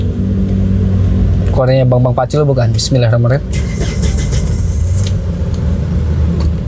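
A 2021 Hyundai H-1 Royale Korean diesel MPV idles with a steady low rumble throughout, while someone speaks briefly over it near the middle.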